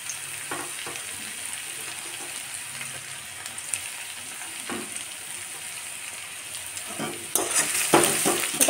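Chopped garlic and ginger are stirred in a hot pan for restaurant-style pasta, giving a steady close sizzle with scraping stir strokes; the frying swells louder near the end, with no voices.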